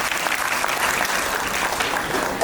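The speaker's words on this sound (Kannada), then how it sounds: "ಜೋರಾದ ಚಪ್ಪಾಳೆಯೊಂದಿಗೆ ಅವರನ್ನು ಸ್ವಾಗತಿಸಿಕೊಳ್ಳೋಣ" An audience at a ceremony bursts into loud, dense applause to welcome a guest, a steady roar of many hands clapping throughout with no speech over it.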